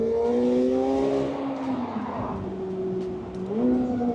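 A McLaren 750S Spider sports car exhaust burbles and revs with a throaty, harmonic growl, dipping briefly and then rising again near the end.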